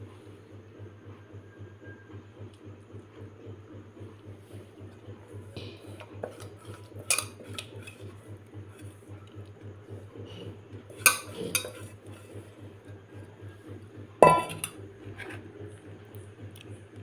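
Small pieces of black chickpea are tossed with masala and chilli powder in a dish, giving a few scattered clinks and scrapes over a steady low hum, with no talking.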